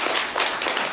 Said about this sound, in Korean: 우리 큰 박수 한번 쳐주시고